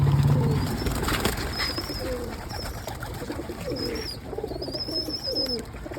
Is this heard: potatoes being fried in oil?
no